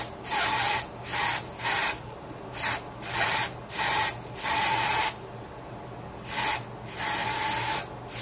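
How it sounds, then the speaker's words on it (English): Short repeated hissing sprays of a product onto the inside of a wig turned inside out, about nine quick bursts in an irregular rhythm, close and fairly loud. "I'm gonna turn her out inside out and just spray it like this."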